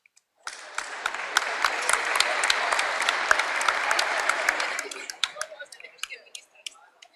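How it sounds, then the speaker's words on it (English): A crowd at a business forum bursts into applause that holds steady for about four seconds, with some sharp individual claps standing out, then it thins into scattered claps and dies away. "A lot of people from IDB Invest over here applauding"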